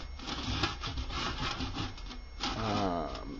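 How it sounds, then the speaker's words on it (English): A handsaw cuts through 3/4 inch plywood to shape a former for a Triumph Herald Vitesse wheel arch repair, giving a continuous, close rasping of wood with steady back-and-forth strokes. "So I'm just going to cut that shape out"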